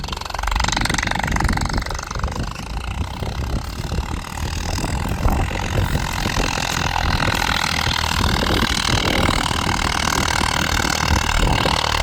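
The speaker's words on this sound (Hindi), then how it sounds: "अपना ये फार्म ट्रक 60 चलता हुआ, ये मीडियम के तीसरे में है शायद" Farmtrac 60 tractor engine running under load in a field with an 18-disc implement, a loud steady diesel drone close by that continues unbroken throughout.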